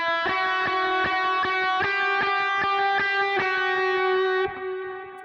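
A distorted electric guitar plays a lick over C, built on passing tones and a suspension: about a dozen crisply picked notes in a quick, even rhythm, ending on a sustained note that fades.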